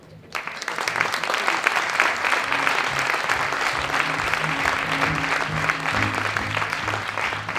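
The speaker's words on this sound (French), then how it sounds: "mesdames et messieurs, on d'applaudir Jean-Philippe Uzan." Audience applause greets an astrophysicist taking the stage at a public lecture on the time of the universe, a dense, steady clapping that swells in quickly and holds evenly throughout.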